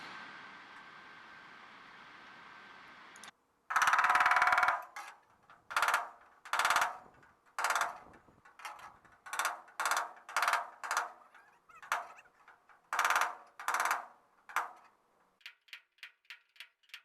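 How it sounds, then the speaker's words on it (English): Hammer tapping and coaxing the steel trunk panel of a Triumph TR250, with a dolly held behind it, producing loud, sharp metallic blows in irregular bursts and quick runs, preceded by a steady hum before the hammering starts. "Give it a little tension, tap it everywhere you can see, and repeat as necessary"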